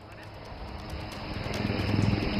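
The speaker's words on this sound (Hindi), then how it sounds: "हेलीकॉप्टर है, जो कि अब यहाँ पर लैंड कर रहे हैं।" Indian Air Force ALH helicopter landing at an air show, its rotor and engine roar building steadily louder and closer, with faint background noise and no clear talk.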